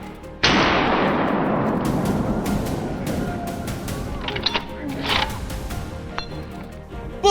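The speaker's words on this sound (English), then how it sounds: "Boom! A crisp gunshot rang out the moment the target appeared." A single loud, sharp gunshot from a wild boar hunt cracks out close by, then rings into a long, slowly fading echo, followed by quieter outdoor rustling and a few faint knocks.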